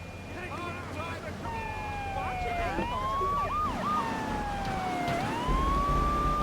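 Police sirens chasing the player in Grand Theft Auto III, wailing and sweeping up and down over engine rumble and game noise, loud and continuous.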